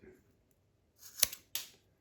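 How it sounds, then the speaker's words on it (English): Scissors cut through braided rope in two crisp close snips about a third of a second apart, the first sharper and louder, in a quiet room. "Let's take a pair of scissors and have a little snip."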